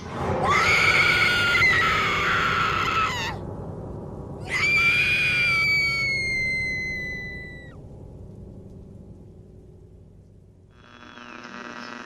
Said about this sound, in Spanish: Los gritos retumbaron en todo Bad State.